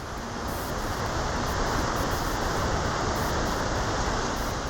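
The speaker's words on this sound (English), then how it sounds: "The closer you get to the waterfall, the louder it becomes." Constant broadband roar of Helmcken Falls, a large waterfall, growing dense and steady as it is approached, filling the whole clip with no pauses or voices.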